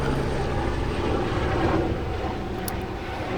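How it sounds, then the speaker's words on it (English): A very loud helicopter passes overhead, its broad, steady roar filling the whole stretch without pause. "Oh, it's a helicopter, very loud."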